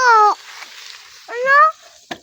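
A cat gives two clear, drawn-out meows close by, separated by a short pause, with a small click at the end and no talking over them.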